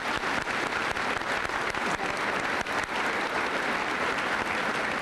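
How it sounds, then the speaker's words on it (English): Dense, sustained applause filling a hall at a high school senior assembly, many hands clapping continuously for the whole stretch at a fairly loud, even level. "Let's give them a round of applause."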